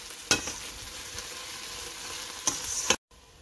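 Tomatoes frying in a pan with bits of stirring, making a steady soft sizzle with a few louder scrapes near the start and end, close up and without talk, while preparing a stuffed bitter gourd dish.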